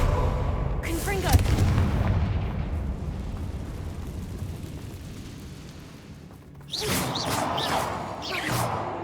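Fiery blasts of the Confringo spell in the video game Hogwarts Legacy burst out as booming explosions, a heavy rumbling blast that fades away, then a fresh crackling burst.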